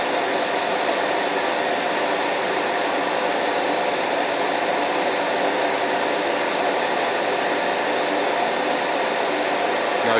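An airbrush sprays cleaner through into a parts-cleaning holder with a spray booth running, making a steady, loud hissing air noise that continues unbroken, with no talk.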